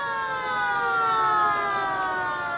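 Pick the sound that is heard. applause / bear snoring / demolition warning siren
demolition warning siren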